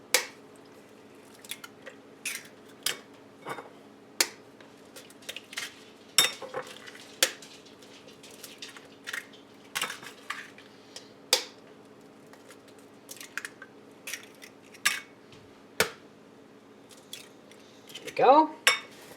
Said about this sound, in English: Into this bowl, we're gonna start cracking our eggs.